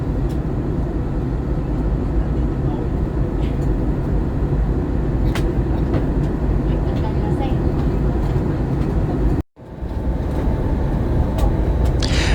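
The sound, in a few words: Vietnam Airlines passenger jet cabin noise while landing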